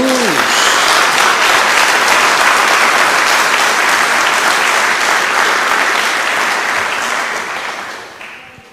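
A church congregation applauds during a sermon, a dense, loud, steady wash of many hands clapping together that holds evenly for most of the stretch before fading away at the end.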